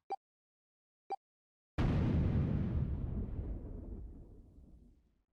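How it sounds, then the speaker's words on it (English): Explosion in the video game Nine Hours, Nine Persons, Nine Doors: after two brief, sharp sounds, a single loud blast erupts and rolls into a long, rumbling decay that fades slowly. "The explosion rocked the room."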